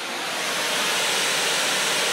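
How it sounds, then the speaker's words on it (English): Steady pink noise test signal played from a single loudspeaker, a smooth continuous broadband hiss at even level throughout, with no voices. "Single pink noise source."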